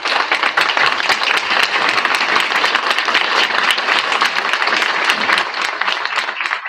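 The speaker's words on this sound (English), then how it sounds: "let's give them a round of applause" An indoor audience at a city council candidate forum in Pekin applauds elected officials, dense, steady clapping from many hands sustained at full volume for nearly seven seconds.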